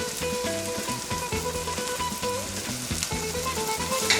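Shrimp sizzling in a hot pan with lemon juice, a dense, steady crackling fry with scattered pops, loud and close throughout, with faint background music.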